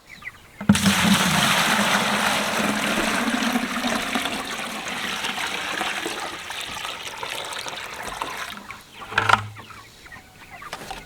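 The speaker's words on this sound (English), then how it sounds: "I'm just going to fill this up with water." Water pours into a Plasson broiler chicken drinker, a steady rushing fill that runs several seconds before tapering off, followed by a brief plastic knock near the end.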